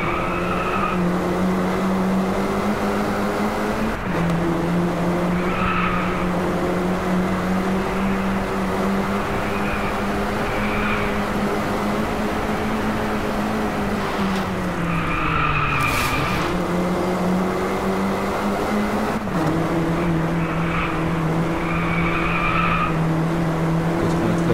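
A race car in Drive Club on PS4 holds full throttle with a constant, loud engine drone that shifts pitch slightly at gear changes, accompanied by tire squeal and skidding through corners.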